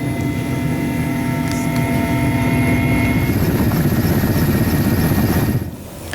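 A water-bombing helicopter fighting forest and land fires in Kotawaringin Timur, Central Kalimantan, a loud steady rotor and engine drone with a rhythmic chop, close and continuous, fading slightly at the end.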